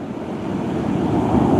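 Sea waves and wind surround a fishing kayak out on open water, a steady broadband wash of surf and gusting wind noise that swells slightly louder toward the end, with no talking.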